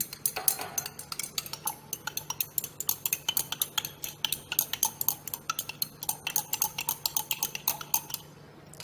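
A cold solution being stirred vigorously in laboratory glassware while a reagent is added in portions, heard as a rapid, steady run of close glassy clinks and taps that continues the whole time, with no talking.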